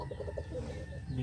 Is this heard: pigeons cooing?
yes